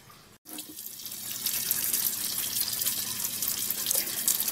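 Salted fish being rinsed under cold running tap water in a sink, the stream starting after a brief pause and then pouring and splashing steadily up close, without talk.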